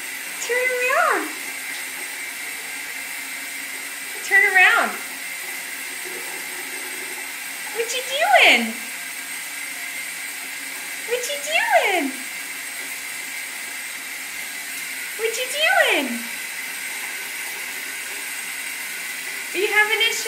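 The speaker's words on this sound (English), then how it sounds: "Are you having a shower?" A shower runs with a steady, soft hiss of spraying water, while short rising-and-falling cries sound over it about every three to four seconds, five in all.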